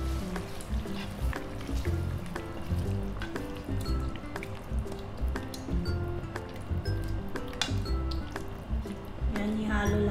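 Pork afritada with tomato paste being stirred in a pot, wet squishing and clinking of the spoon over a constant sizzle, with a voice speaking briefly.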